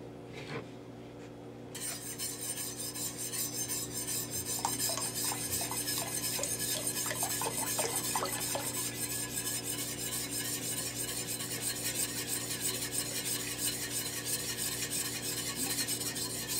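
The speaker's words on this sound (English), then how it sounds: "so I'm going to go ahead and mix those together." Oils and lye whisked together in a bowl for cold process soap: a steady, continuous scraping and stirring rasp that runs close-up and alone for the whole stretch, with a few light clinks partway through.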